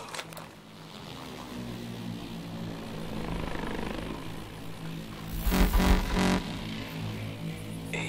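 A hovering drone in Call of Duty: Advanced Warfare gives a steady whirring rotor drone nearby, building gradually with a louder pulsing swell near the end, no talk.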